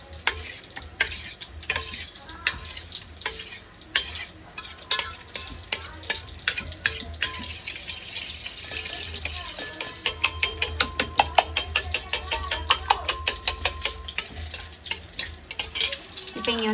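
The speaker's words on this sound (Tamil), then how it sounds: "இந்த கட்டி கட்டியாக இருக்கிறது எல்லாமே நல்லா மச் பண்ணி ஊற்றிக்கிறேன்." Lumpy curd and water are stirred and mixed in a pot, a spoon scraping and clattering in quick repeated strokes with wet sloshing throughout, loud and close.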